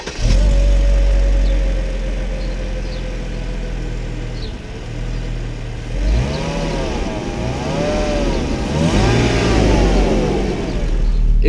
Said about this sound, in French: Allez, on est parti pour un petit démarrage.